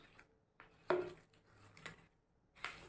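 Lentil fritters being stirred into sugar syrup in a bowl, giving a few soft, scattered clinks and wet knocks of a utensil against the bowl, close and fairly quiet.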